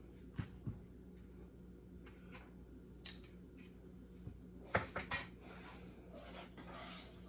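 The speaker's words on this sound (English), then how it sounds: "One final stir." A ladle scraping and knocking inside a pot of hearty southern-style soup, with scattered metallic clinks and scrapes, a cluster of sharper knocks near the end, over a steady low background hum.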